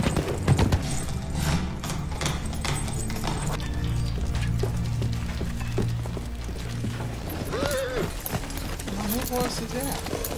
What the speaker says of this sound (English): What horse is that?